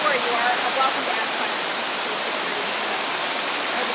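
A waterfall at the Fallingwater house rushes in a dense, steady broadband roar, close and continuous, with no voices standing out.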